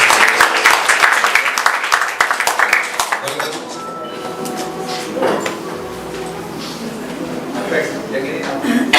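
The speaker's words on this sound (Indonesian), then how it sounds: "Kasih tepuk tangan dulu untuk Tuhan." Church congregation clapping at a Sunday Christmas service, a dense burst of applause filling the first few seconds and then thinning into scattered claps and murmuring voices over a ringing, reverberant hall.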